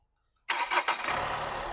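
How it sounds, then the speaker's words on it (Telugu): A 2019 Hyundai Creta automatic diesel starts on a single crank after a brief silence, catching at once and settling into a steady, close diesel idle. "సింగిల్ సెల్ఫ్లో బండి స్టార్ట్ అవుతుంది సార్."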